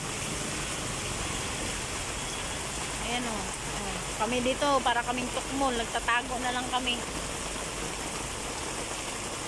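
Heavy rain pours down steadily as a dense, constant wash, with people talking over it in the middle of the stretch.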